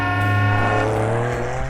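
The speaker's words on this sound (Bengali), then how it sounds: "দেখো দেখো, ওই একটা গাড়ি।" A cartoon car drives by with a steady, buzzing engine hum that holds for under two seconds, loud and close, with no voices over it.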